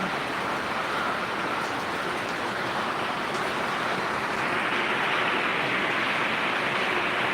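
Steady rain falls on potted garden plants and bougainvillea in Kerala, a continuous even hiss with no break or talk throughout.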